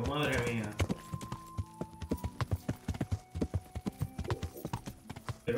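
Horse hooves clip-clopping at a steady walking rhythm while riding in the video game Kingdom Come: Deliverance, close and distinct, with someone talking briefly at the start.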